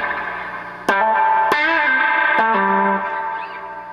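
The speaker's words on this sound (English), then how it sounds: "I've got the max reverb and you can hear it." A few sharp electric guitar strums through a Dr Z 38 Maz Senior amplifier under repair with reverb at maximum, each chord hanging with a spacious reverb tail that decays slowly between hits.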